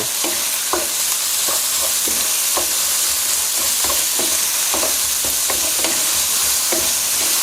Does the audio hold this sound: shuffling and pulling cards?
no